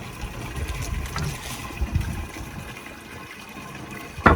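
Water running from an outdoor tap at a campsite, an uneven splashing and gurgling flow at moderate volume, with a louder splash at the end.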